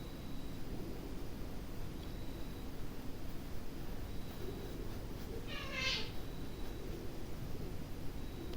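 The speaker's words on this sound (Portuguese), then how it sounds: "se escuta barulho de gato aí, é os meus gatos que estão um brigando com o outro aqui" Two house cats fighting each other, giving a brief strained meow or yowl around the middle, heard faintly through steady background hiss and rustle.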